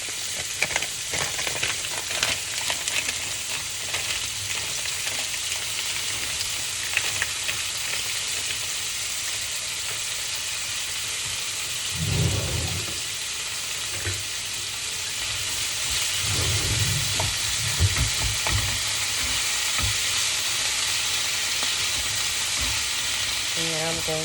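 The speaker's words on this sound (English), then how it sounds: "We're going to let all that saute down" Chopped onion sautéing in a pan, a steady broadband sizzle with occasional stirring scrapes and knocks, heard close with no talking.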